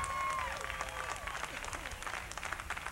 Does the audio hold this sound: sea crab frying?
no